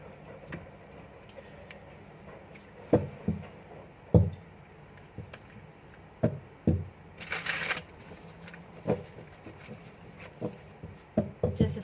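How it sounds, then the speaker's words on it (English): Tarot cards shuffled and riffled against a tabletop, a string of soft papery flutters and sharp taps in an uneven rhythm, with one longer bright riffle midway, close and fairly quiet, no talking. "Just decided to give the final shuffles on the table today"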